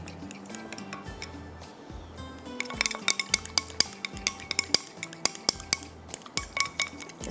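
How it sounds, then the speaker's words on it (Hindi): Yogurt with red chili powder and turmeric is whisked in a bowl for rogni naan, giving a quick run of clinking, rhythmic utensil taps against the bowl that start faintly and grow steady and close, with no talking. "दही को थोड़ा सा फेंट लेते हैं।"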